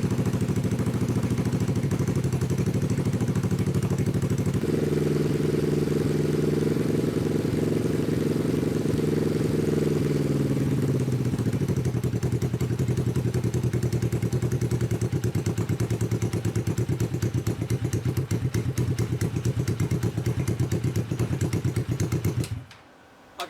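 A small dune buggy engine runs steadily for over twenty seconds, its pitch shifting as it revs up and settles, then cuts off abruptly near the end.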